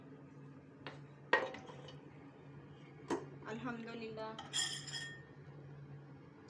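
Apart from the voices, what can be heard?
opening a pressure cooker lid, pots and utensils clinking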